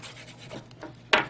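A metal key scraping across the back case of a phone, with a few short rasping scratches close up and a sharper, louder scrape near the end.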